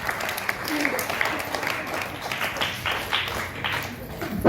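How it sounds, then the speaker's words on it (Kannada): Students clap together at an anniversary award ceremony, a dense, continuous patter of applause from a crowd that stays fairly even, with some voices mixed in. "ವಿದ್ಯಾರ್ಥಿಗಳು ಜೋರಾದ ಸತತವಾಗಿ ಹಂಗೆ ಚಪ್ಪಾಳೆ ಬಿಡ್ತಾ ಇರಬೇಕು."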